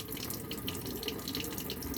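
Cold water runs steadily from a tap while hands are washed under it, a close, even splashing hiss with no voices.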